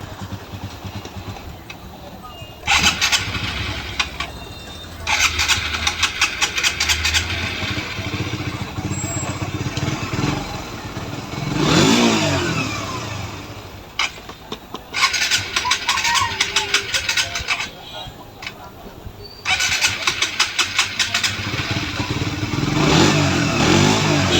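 A Suzuki GSXR 150 motorcycle with an erratic pickup fault revs in repeated sharp bursts, each rising high and then sinking slowly back to a rough idle, loud and close, with someone talking between and over the revs.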